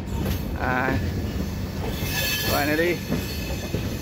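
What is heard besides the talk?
Raptisagar Express train arriving at platform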